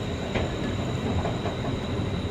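A train at Madhyamgram railway station rumbles steadily and loudly, with a constant low roar of wheels and carriages throughout.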